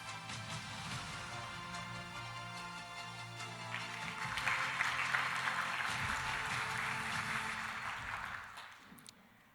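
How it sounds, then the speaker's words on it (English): Sustained audience applause at a gender equality forum in Cape Town, steady and fairly even for several seconds, swelling slightly midway before tapering off at the end. "ladies and gentlemen, for that applause"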